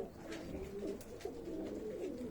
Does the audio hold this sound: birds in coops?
yes